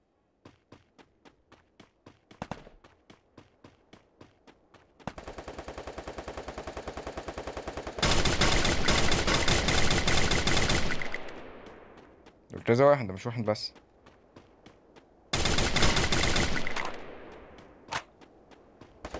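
Pistol and rifle fire in the battle royale game Free Fire: a string of single shots, then long rapid automatic bursts broken by short pauses, with someone talking over the gunfire.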